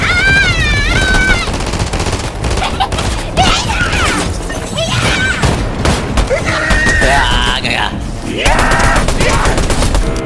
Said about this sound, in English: Shotgun shoot fast.